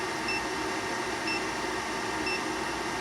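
Three short, high electronic beeps from a 100 amp battery BMS on a LiFePO4 battery under discharge repeat at a steady pace over a constant mechanical hum.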